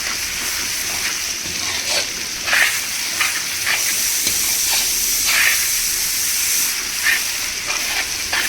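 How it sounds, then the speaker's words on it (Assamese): Ginger-garlic paste sizzles and fries steadily in a hot pan while being stirred for a soya chunk and potato pulao, a constant loud hiss with brief scraping accents throughout. "ইয়াতে এতিয়া মই দিম এয়া আদা নহৰু পেষ্টখিনি। এইখিনি এতিয়া ভালদৰে লৰাই দিম।"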